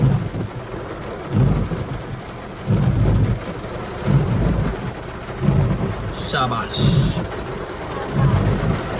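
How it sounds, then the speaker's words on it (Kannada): Steady rain pours down with low rumbles rolling in and out, and a voice speaks briefly in Tulu over the downpour. "ಮಳೆ"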